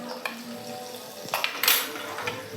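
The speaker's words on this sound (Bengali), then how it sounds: "লবণটা দিয়ে একটু ভালো করে নাড়াচাড়া করে নেব" Salt being stirred into a chili and carrot pickle with a spoon: a quiet, scattered clatter of utensil on dish, with a few sharper scrapes and clinks near the end.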